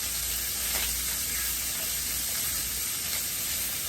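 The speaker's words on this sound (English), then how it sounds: "let's introduce some onions. Allow the onions to become translucent and fragrant" Onions frying in a pan for a chili dog tater tot casserole, giving a steady, continuous close sizzle and hiss with no talk over it.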